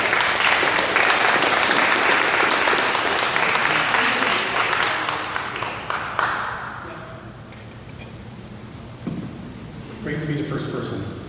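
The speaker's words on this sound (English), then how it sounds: "So let's give him a big round of applause." Pitch-night audience gives a big round of applause as the first presenter, from BYU, is called up, loud sustained clapping that thins out and fades after about six seconds, with scattered claps and murmurs at the end.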